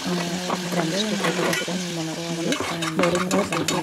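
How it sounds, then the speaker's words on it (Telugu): Garlic, onion and tomato sizzle in hot ghee while being stirred for a baby's soup, a steady loud frying hiss with a spoon scraping the pan and a voice talking over it. "జీరా గార్లిక్, తర్వాత గార్లిక్, ఆనియన్, టమాటా వన్ స్మాల్ టమోటా వేసుకుని కొంచెం ఫ్రై చేసుకోవాలి"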